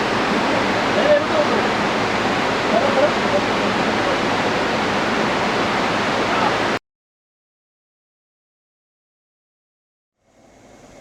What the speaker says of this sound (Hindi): ये जड़गंगा, और आप समझ सकते हैं कितना खूबसूरत पानी।